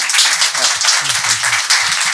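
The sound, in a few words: audience applauding the ambassador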